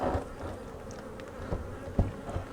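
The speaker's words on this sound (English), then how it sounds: "so these bees won't go back to their location over there" Honey bees hum around an open beehive as frames are added, a dense steady buzz close by with a few louder passes of individual bees.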